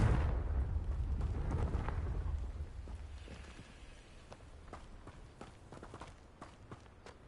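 Confringo blasting spell explosion in Hogwarts Legacy, a heavy rumbling blast that starts loud and slowly fades, followed by scattered small clatters and debris sounds.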